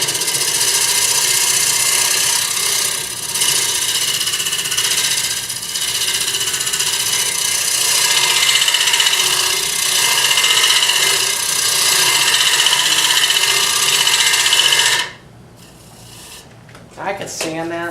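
Hand tool scraping and shaving the wooden surface of a calabash bowl, a continuous close rasping stroke that runs steadily before stopping abruptly, leaving quiet room tone and a brief sound at the end.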